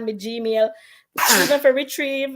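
A single sharp sneeze bursts out in the middle of casual indoor speech, loud and close, with someone talking before and after it.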